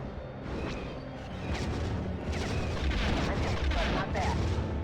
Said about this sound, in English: I was trying to shoot a missile